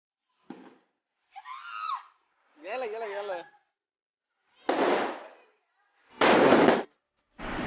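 Several loud Diwali firecracker bursts go off one after another with short gaps, interspersed with brief high-pitched squeals and a child's scream.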